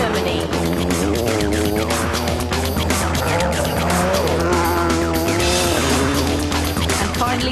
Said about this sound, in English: This is one of your last chances to see the Skoda Octavia in action.